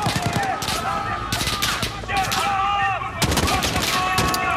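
Rapid gunfire bursts from a Modern Warfare campaign firefight, loud and close, with repeated volleys and sharp shots stacked in a dense chaotic rhythm throughout.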